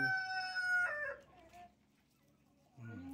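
Chickens cluck and a rooster crows nearby, followed by a brief quiet gap before more clucking resumes.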